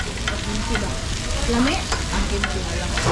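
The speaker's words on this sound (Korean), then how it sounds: "저는 옆에서 고기 구워주고 있습니다" Beef and shrimp grill at a meal in the Philippines, giving a continuous close sizzle with faint scraping and stirring noises scattered through it.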